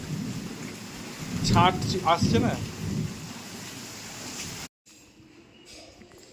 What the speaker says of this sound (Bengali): দেখো বৃষ্টি করো করো তোমার লাইফের প্রথম বর্ষা